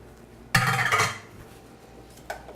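Shrimp and marinade go into a hot pan with a sudden loud clatter and splash that fades within a second, followed by a brief clink of the pan being moved, with no talking.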